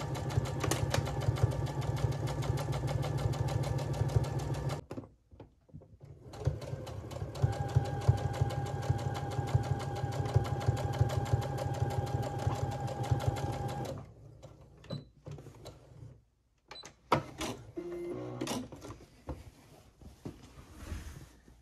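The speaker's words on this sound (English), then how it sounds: "when starting to sew, you always wanna start with a back stitch to lock in your stitches, and then follow that 1/2 inch seam allowance all the way down" A domestic sewing machine stitches a pajama pant inseam, humming and clattering in a steady, close run that stops briefly, resumes at length, then breaks into short stop-start bursts near the end.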